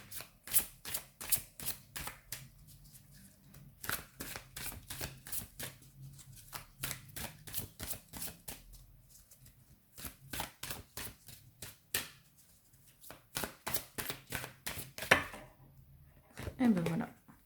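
Glossy-finish oracle cards, The Moon Oracle deck, being shuffled by hand in rapid crisp riffling bursts that pause and resume, close and clear, with a brief quiet stretch between bursts.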